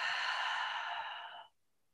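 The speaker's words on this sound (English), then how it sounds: "And exhale through the mouth." A single long breath is exhaled through the mouth during a guided meditation, a soft, airy whoosh lasting about a second and a half that fades into silence, close and quiet.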